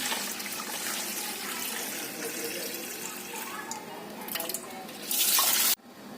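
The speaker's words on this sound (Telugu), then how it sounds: "ఇలా వాటర్ పోసుకొని కడుక్కోవాలి." Water pours and splashes over urad dal in a container as it is washed, a continuous rushing flow that swells into a loud gush near the end before cutting off abruptly.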